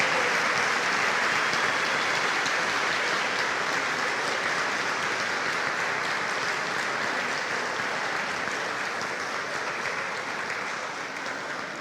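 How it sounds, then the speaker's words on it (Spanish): Sustained audience applause fills a hall at an honorary doctorate ceremony, dense and steady throughout, with no talking over it, slowly tapering near the end. "así que démosle un fuerte aplauso."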